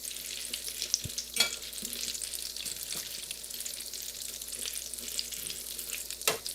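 Eggplant balls (polpette di melanzane) frying in hot oil on a gas stove, a steady close sizzle throughout with a few sharp clicks and stirring knocks.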